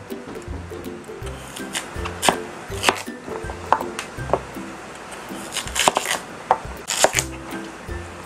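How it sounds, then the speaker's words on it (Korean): A knife cuts a large Korean radish into bite-sized cubes for kkakdugi on a cutting board, with irregular crisp chops and board knocks, some in quick clusters and others spaced apart, close and fairly clear with no talking. "무는 드시기 좋은 크기로 썰어줄게요"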